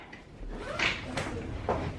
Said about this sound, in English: it's got the sliding door